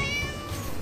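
A cat gives a single short, fairly loud meow up close over faint background noise, with no talking.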